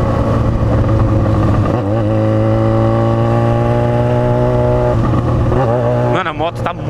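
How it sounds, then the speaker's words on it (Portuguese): A Yamaha XJ6 motorcycle engine hums loudly and steadily up close, rising in pitch as it accelerates and then sweeping past near the end. "A moto tá muito fresca, velho. Ela tá andando muito suave depois que eu troquei o líquido dela de arrefecimento."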